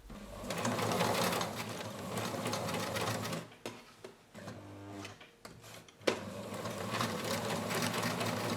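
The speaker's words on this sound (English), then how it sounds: "I'm going to sew all around the neckline, 1 centimeter from the edge," Sewing machine stitching around the neckline of a ruffle-collar puff-sleeve blouse through folded bias tape, a steady close whirring run that pauses briefly midway, with a few clicks, then resumes.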